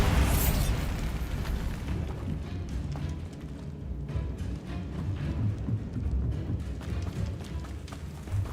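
Bombarda spell explosion in Hogwarts Legacy, a loud burst at the start followed by a rumbling, crackling decay of debris with scattered taps.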